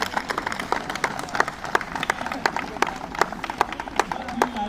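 Scattered applause and clapping from an audience at a university physical education department's National Sports Day event, greeting a students' aerobics demonstration; uneven, moderately loud claps spread across the crowd with no talking.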